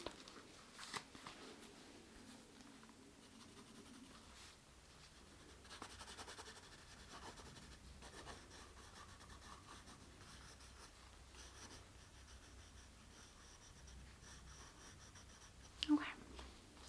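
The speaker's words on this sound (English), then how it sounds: "you can just write your name and surname on this piece of paper" A pen writing a name and surname on a sheet of paper during a clinical hand examination, with faint scratchy strokes that come and go over a long stretch, quiet and close, with soft whispering and a brief louder rustle near the end.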